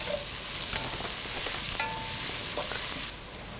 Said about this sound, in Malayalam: പച്ചമുളക്, വെളുത്തുള്ളി എന്നിവയിട്ട് നന്നായിട്ട് വഴറ്റിയെടുക്കുക